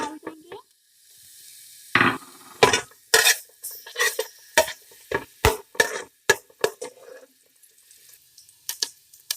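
Ginger garlic paste dropped into a spoonful of hot oil in a pan already used for cooking egg, for egg fried rice; a series of sharp, close clatters and short sizzling bursts, with no talk.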